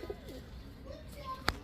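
Pigeons, including a pair of red King pigeons, coo softly and faintly in a quiet space, with a few low murmurs and one sharp click near the end.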